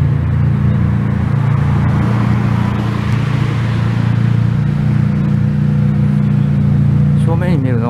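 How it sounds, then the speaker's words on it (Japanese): Modified cars gathered at night in Kobe's Meriken Park, their engines rumbling and revving loudly and continuously nearby, with someone talking over them throughout. "これ改造車が集まってますね"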